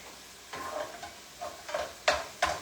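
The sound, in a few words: stirring and breaking apart ground beef frying in pan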